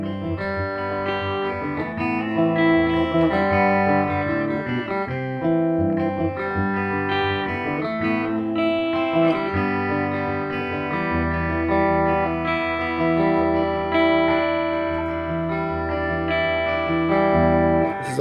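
A bright electric guitar, an Oscar Schmidt OE20 Les Paul-style on its bridge pickup, plays chords and melodic lines with a biting, trebly tone, sustained and ringing, heard alone without any talking.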